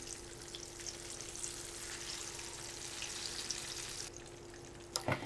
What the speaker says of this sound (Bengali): আমি এটা ভেজে নিলাম